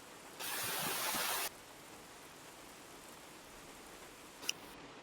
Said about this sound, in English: And it's getting heavier, the rain.